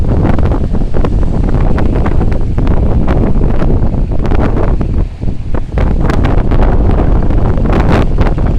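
Strong wind buffets an outdoor microphone on a very windy day beside a Honda CRF230F trail bike, a loud, constant roaring rush with gusty surges throughout and no speech.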